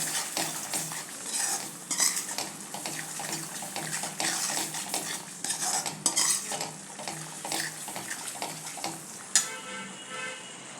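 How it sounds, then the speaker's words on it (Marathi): Spices being stirred and fried in a pan over a low gas flame, with a steady soft sizzle under repeated scraping and clinking of a spoon against the pan, close and continuous. "आणि आता याला परत भाजून घ्यायचं व्यवस्थित गॅस बारीकच ठेवायचा मसाले घालताना"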